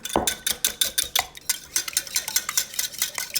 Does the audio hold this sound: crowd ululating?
no